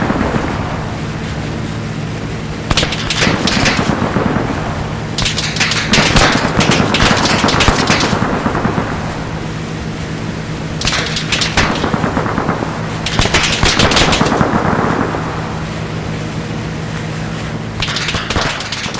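Arma 3 combat with an enhanced sound mod: repeated loud bursts of automatic gunfire and single shots echo across an open battlefield, separated by windy, rumbling ambience and no talk.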